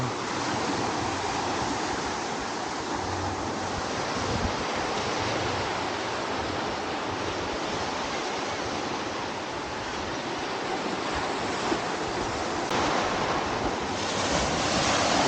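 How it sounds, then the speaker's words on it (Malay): Strong ocean waves crash and roar continuously, a dense wash of surf with wind buffeting the microphone throughout. "ombak kuat"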